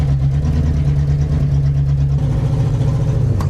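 A car driving over a bumpy field, its engine droning loud and close with a steady low hum that shifts pitch midway, the cabin rumbling without talking.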